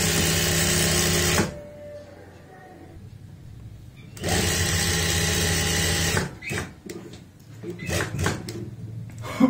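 A sewing machine stitches a fine border seam on a blouse strip in loud, close whirring runs that stop and restart, with short bursts near the end and a voice talking in the pauses.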